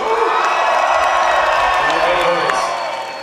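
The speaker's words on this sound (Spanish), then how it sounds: "un aplauso por ustedes" Rock concert crowd cheering, whooping and applauding loudly and continuously, a dense wash of shouts and claps that eases slightly near the end.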